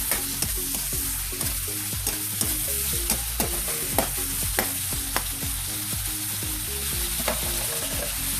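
Sliced chicken meat sautéing in hot cooking oil, a steady close sizzle with regular stirring scrapes and utensil clicks throughout, no talking.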